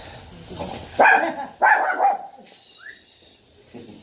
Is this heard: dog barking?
yes